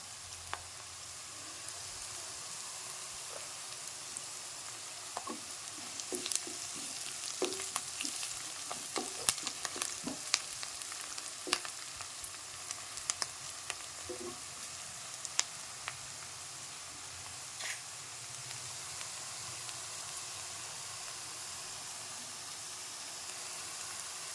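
Onions browning in a pan give a soft, quiet sizzle, broken by a cluster of light spatula clicks and scrapes in the middle, with no talking.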